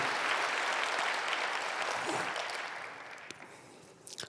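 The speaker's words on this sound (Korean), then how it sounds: "하나님께 영광의 박수 올려드립니다." A church congregation at a Friday evening worship service applauds together, a full, steady clapping that gradually thins and fades out over a few seconds.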